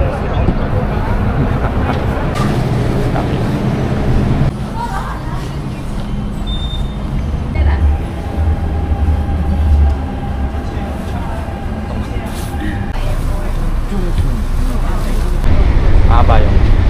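A fast train rumbles past at close range, a loud continuous roar and rattle building toward the end, with people talking faintly alongside.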